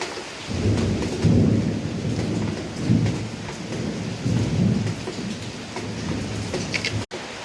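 Steady rain hisses without pause, while low rumbles of thunder roll through in the background.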